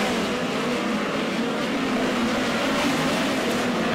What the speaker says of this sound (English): Your leader and 2nd place car running nose to tail.